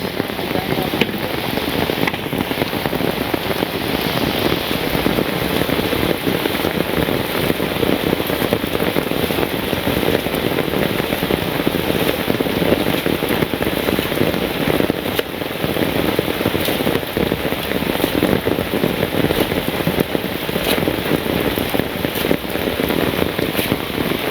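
Steady rain pours over a Bangladeshi village in the rainy season, a dense, continuous patter close by with no break in its even wash.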